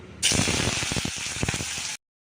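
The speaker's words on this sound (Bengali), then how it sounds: "দেখো শুকনো লঙ্কা ফোড়ন দিয়ে তেলটা আমার গরম হয়ে গেছে, আলুটাও আমি ভাজতে দিয়ে দেবো।" Potatoes dropped into hot oil tempered with dried red chilli, bursting into a loud, dense sizzle that holds steady for under two seconds and then cuts off, close and alone.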